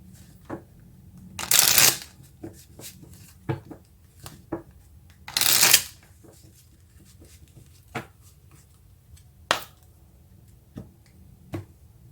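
Tarot cards are shuffled in two brisk riffling bursts, then drawn and laid down with soft scattered flicks and taps, close by with no talking.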